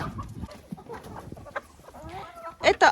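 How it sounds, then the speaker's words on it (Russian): Laying hens in a henhouse cluck softly while pecking at bread soaked in cold water, with a couple of louder, close squawks near the end over scattered feeding noise. "Сегодня мои куры кушают хлеб, размоченный в холодной воде хлеб."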